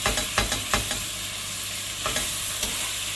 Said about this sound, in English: we're just going to fry the mince until it's brown.